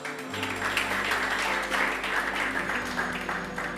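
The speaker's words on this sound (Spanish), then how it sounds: "¿Cuántos aplauden al Señor?" A church congregation breaks into sustained, dense applause during a sermon on the shofar and the Feast of Trumpets, steady and fairly loud throughout, with no talking over it.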